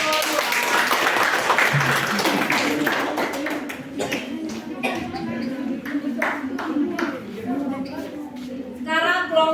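Classroom applause for a student group: a burst of scattered clapping from a room of people that thins out as voices and chatter take over, with a few light taps near the end.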